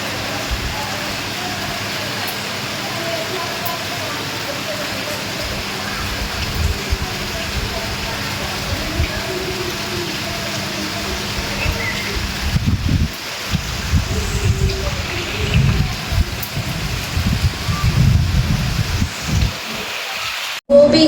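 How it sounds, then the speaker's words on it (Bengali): Rain falls outside around a house, soaking everything: a continuous soft wash of drops that swells in the second half with louder, low, gusty bursts. "এই দেখো বৃষ্টিতে চারিপাশ ভিজে"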